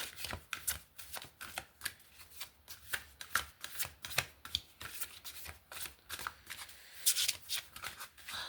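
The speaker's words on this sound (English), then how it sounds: "These cards are hard to shuffle." A new, stiff deck of playing cards is shuffled again and again, with quick riffling bursts in a steady rhythm, close and alone with no talk.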